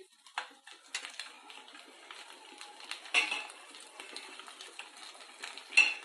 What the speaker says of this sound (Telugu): ఇది కూడా ఒక నిమిషం పాటు మన ఎగ్ మిక్స్తో ఫ్రై చేద్దామండి